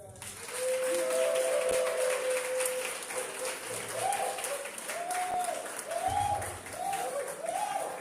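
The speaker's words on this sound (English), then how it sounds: "Oh, please give her a round of applause." Audience at a student debate competition applauds a speaker with a steady, dense wash of clapping that fills the whole stretch, with a few voices rising faintly through it.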